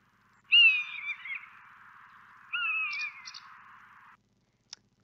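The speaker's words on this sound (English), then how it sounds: "Fledgling owl." Two drawn-out, raspy high calls from a young owl, each a wavering screech lasting over a second, with a brief click after.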